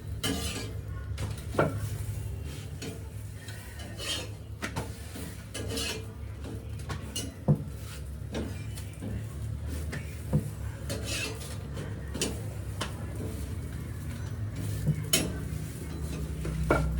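A pot of boti curry bubbles at a soft simmer while a utensil scrapes and taps against the pot in scattered strokes, quiet and close, with no talking.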